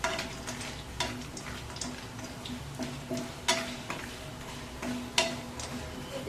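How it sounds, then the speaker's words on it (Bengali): Soy chunks fry in hot rice bran oil, giving a steady sizzle with repeated scraping and stirring strokes and a few sharp clinks of a utensil against the pan. "তেলটা কিন্তু গরম হয়ে গেছে এরপরে আমি যে সয়াবিনটা দেবো সয়াবিনটা কিন্তু ভেজে দেবো"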